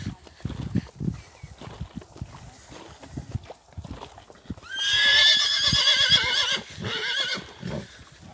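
Horses neigh in a loud, drawn-out whinny partway through, amid hoof clip-clops and movement around a stable with horses, ponies and a donkey; people talk before it.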